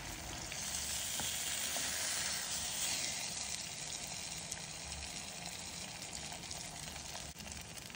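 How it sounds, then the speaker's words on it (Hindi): Chicken pieces fry in hot oil with a loud, steady sizzle and crackle that runs unbroken throughout, with no voices. "और कुछ छोटे मोटे पीसेस बचे हो तो उन्हें भी जल्दी तलकर वहां से हटाएं"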